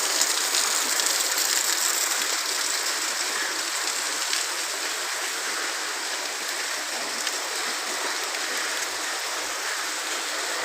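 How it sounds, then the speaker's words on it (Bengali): Heavy rain pours down on an outdoor street in a steady, dense hiss that stays loud and even throughout, with no voices. "ভীষণ বৃষ্টি হচ্ছে।"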